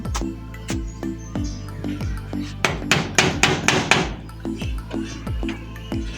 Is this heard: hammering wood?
yes